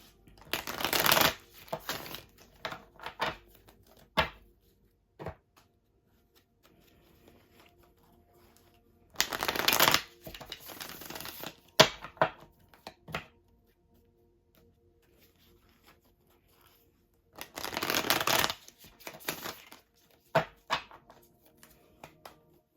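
Tarot cards shuffled and gathered in three bursts of brisk riffling, with scattered soft taps and card handling in between, close and fairly quiet, with no talking.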